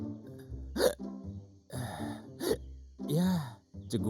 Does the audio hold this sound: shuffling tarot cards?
no